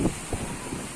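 Strong wind gusting hard against the microphone ahead of a flood, roaring and buffeting in uneven bursts close to the mic.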